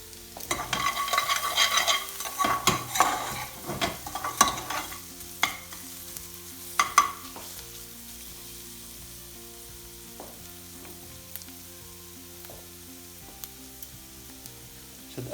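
Onions for a mushroom bhaji sauce fry in a pan while a utensil stirs them, giving busy clattering scrapes and sizzle for the first half, then a quieter steady fizz with occasional light knocks.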